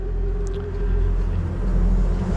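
A three-axle truck on Norway's Route 25 near a mountain pass passes along the road: a loud, steady low engine rumble with a constant drone over it, close by, heard without talking.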